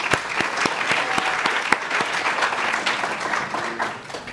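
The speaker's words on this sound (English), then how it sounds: "Please give yourself a round of applause." Audience of students in an auditorium at a medical school stethoscope ceremony applauding, a dense, steady burst of many hands clapping together, fairly close and continuous for a few seconds before tapering slightly.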